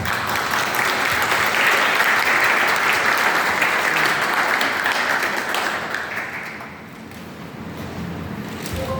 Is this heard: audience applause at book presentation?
yes